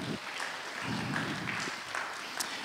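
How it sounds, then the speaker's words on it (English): Church audience giving a round of applause during a Sunday service, a soft, fairly distant scatter of clapping that stays quiet throughout, with a few louder claps near the end. "Round of applause."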